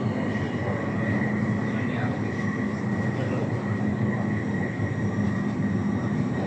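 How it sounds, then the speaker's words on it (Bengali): A Riyadh Metro Purple Line train rumbles steadily past at close range, with a broad, continuous roar that holds evenly throughout. Voices can be heard faintly beneath the noise. "আর একটা ট্রেন যাচ্ছে"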